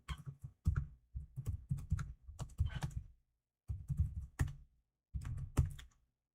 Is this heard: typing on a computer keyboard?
yes